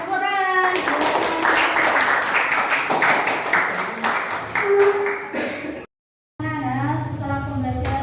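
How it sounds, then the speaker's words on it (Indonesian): A class of children claps in a fast rhythmic pattern during a lesson, with mixed young voices chanting along, then a short silence before a teacher's voice resumes. "Tepuk tangan."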